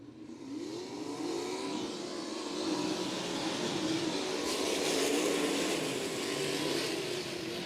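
Sprint cars racing in an A-Main feature at Crystal Motor Speedway, Michigan, heard as a steady, far-off roar of several engines droning and rising together around the dirt oval, with no voices over it.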